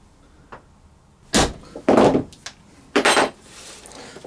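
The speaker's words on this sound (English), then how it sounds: "So I'm using a smaller punch for these. It's a number 22." Leather belt being punched with a number 22 hole punch: a few sharp, loud impact knocks in uneven succession, with a faint tap before them, alone without talk.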